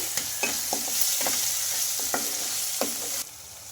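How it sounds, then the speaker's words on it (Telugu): Turmeric and chili powder get stirred in a hot frying pan. There is a constant sizzle with rhythmic spatula scrapes, close and clear, and the sizzle drops away abruptly near the end. "ఇందులోకి కొంచెం పసుపు అలాగే కారం వేసుకొని బాగా కలిపేసుకోవాలి"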